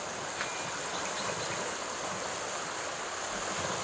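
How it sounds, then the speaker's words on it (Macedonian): The Vardar river flowing in Macedonia, a constant, even rush of moving water with no breaks, heard fairly softly and alone. "Вардар тече"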